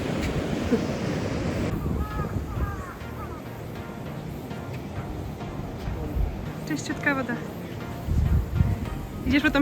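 Waves washing onto a wild, shell- and seaweed-strewn beach in Miyazaki, Japan, a steady rushing surf with wind buffeting the microphone, while people talk over it throughout.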